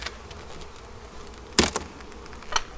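Honey bees buzz faintly at an open hive, a low steady hum with a couple of sharper close passes as individual bees fly near.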